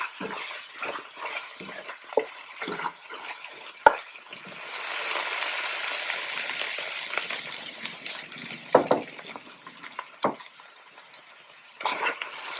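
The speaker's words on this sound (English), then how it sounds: "I'm going to give this a mix" A spoon stirring green seasoning in a pot for Guyanese cabbage and chicken, soft wet scraping strokes and a low sizzle, with a fuller swell of frying in the middle and scattered clinks of the utensil against the pot, close and unvoiced.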